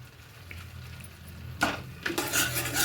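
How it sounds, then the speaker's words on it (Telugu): A spoon stirs ghee rice ingredients with mint and coriander in a metal pot. It gives two sharp scraping clinks over a low background hum, followed by a brief rustling mix. "బాగా మిక్స్ చేసేసుకుందాము"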